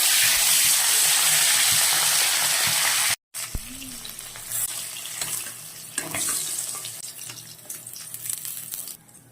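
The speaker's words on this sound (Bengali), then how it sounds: "তো এখন চালকুমড়াগুলো দিয়ে দেবো ভাজার জন্য" Pieces of ash gourd dropped into hot oil for frying, with a loud, dense sizzle at first, then a brief cut to silence and a quieter, uneven crackle with scattered sharp spatters.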